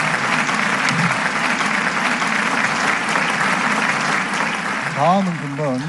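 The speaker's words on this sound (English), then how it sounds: "Let us give another round of applause to Pastor Jonathan Falwell for his inspiring message" Sustained applause from a crowd at a Rally of Hope peace event, steady and loud throughout, with a voice beginning to speak over the clapping near the end.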